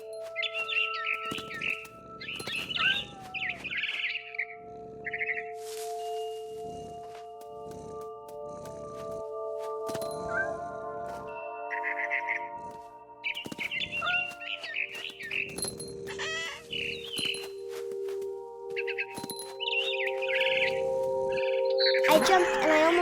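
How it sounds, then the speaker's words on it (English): Barn swallow calls in What Remains of Edith Finch arrive in repeated bursts of rapid, high chirps, separated by pauses with soft tonal ambience beneath. "Then I heard chirping outside my window. It was a barn swallow going back to her nest."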